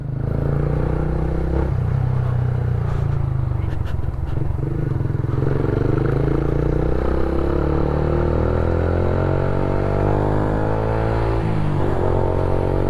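A remapped motorcycle rides past a cemetery, its engine droning loud and steady with rising revs and shifting pitch, plus some rattling clatter, for the whole stretch.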